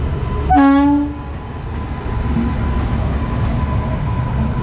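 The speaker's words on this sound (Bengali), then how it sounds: "ওয়াব সেভেন ইঞ্জিন ট্রেনে নিয়ে যাচ্ছে" A train hauled by a WAP-7 electric locomotive on the Siliguri–Hasimara route sounds one loud, short horn blast, then a steady rumble of the rolling wagons continues.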